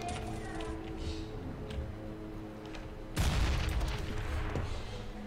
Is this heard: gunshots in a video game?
yes